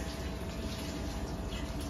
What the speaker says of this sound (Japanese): 洗い物しちゃってます